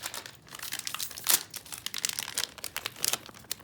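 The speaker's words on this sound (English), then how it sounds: "Let's just rip it open." A plastic mystery-bag package is ripped open by hand, giving close crinkling and crumpling with one sharp tearing burst partway through and more rustling after.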